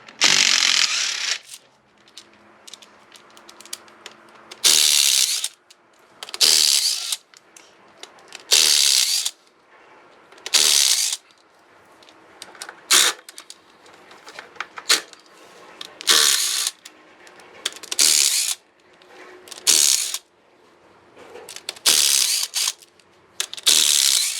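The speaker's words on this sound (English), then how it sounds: "We got to remove all these little 8mm bolts in order to pull the timing cover." A hand ratchet backs out small 8mm timing cover bolts on a Range Rover engine, loud close bursts of rapid ratchet clicking repeating in short rhythmic runs with brief pauses between them.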